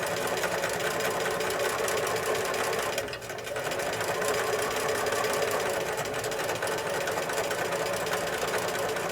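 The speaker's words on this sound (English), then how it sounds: "I want to go on ahead and lift my presser foot and get started right stitching right on that marked line" A sewing machine runs steadily, stitching along a marked line while piecing a sawtooth star quilt block, a continuous close mechanical whir with one brief dip near the middle and no talk.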